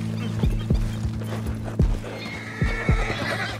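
A horse in Red Dead Redemption 2 whinnies and neighs loudly up close while its hooves clip-clop in irregular thuds, with several louder hoof impacts spread through.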